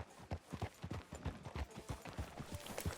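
Horse hooves clip-clopping at a steady walking pace in Red Dead Redemption 2, an even rhythm of close, soft thuds continuing throughout with little else heard.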